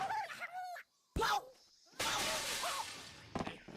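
Glass shattering in the video game Famicom Grand Prix II: 3D Hot Rally, a bright brief crash followed by a longer noisy burst, with game chirps and a voice talking around it.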